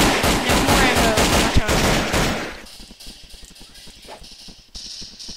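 Rapid automatic gunfire in the Roblox shooter Call of Robloxia Black Ops, dense loud bursts for about two and a half seconds, then sparser thinner shots and clicks fading out.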